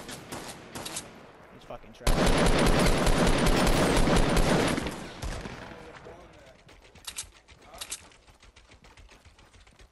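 Dense, loud automatic gunfire in Fortnite roars for about three seconds, then scattered shots follow more faintly, with a player's voice speaking briefly over the action.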